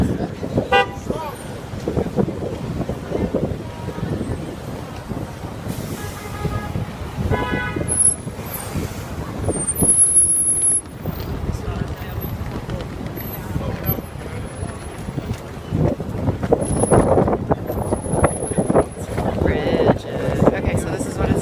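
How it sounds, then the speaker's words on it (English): Winter street traffic in Times Square, New York, with car horns tooting repeatedly over a steady roar of vehicles and wind noise, people talking throughout. "Crossing the street in Times Square in the middle of February in winter"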